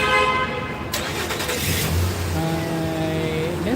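Car horns honk at a roadside political car rally for Trump supporters, with a long harmonic blast at the start and further horn tones later over steady engine and traffic noise, with some crowd sound.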